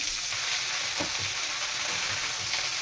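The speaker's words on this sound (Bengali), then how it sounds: "চিচিঙ্গাগুলোকে বেশ ভালো করে ভেজে নেব" Sliced snake gourd frying in hot oil in a pan, giving a steady, loud sizzle throughout with faint stirring underneath.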